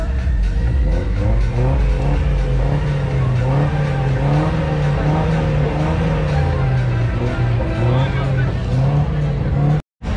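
Volvo car engine running loud and close at an auto clubs summer fest, a steady heavy drone with rising and falling revs throughout and a brief cut-out near the end, voices murmuring underneath.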